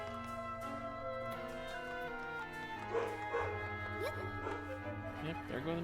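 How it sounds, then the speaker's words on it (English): Small dogs in Zelda: Echoes of Wisdom bark and yip in a string of short, high calls over steady game music, with a person talking at the same time. "there go the noisy puppies"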